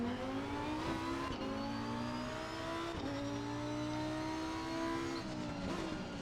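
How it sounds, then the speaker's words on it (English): Car engine in a racing video game revving and accelerating through repeated gear shifts, pitch climbing then dropping several times, a continuous loud whine like a racing car. "Start the car."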